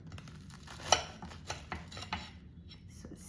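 Knife slicing through an air-fried vegan Morningstar corn dog on a cutting board, giving a few soft, close crunching cuts with light knocks against the board, and no talking.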